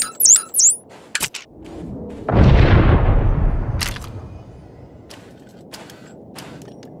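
A shipment is blown up in a Star Wars: The Old Republic cutscene on Ord Mantell: a single heavy boom bursts out after a few short electronic chirps and clicks, then fades into a long rumbling decay.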